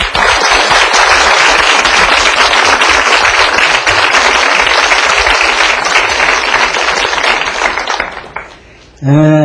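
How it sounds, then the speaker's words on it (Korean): Audience applause welcomes a lecturer at a televised Korean art history lecture: sustained, dense clapping from a large crowd, loud and continuous for about eight seconds before fading as a voice begins. "박수로 선생님께 청해 듣도록 하겠습니다"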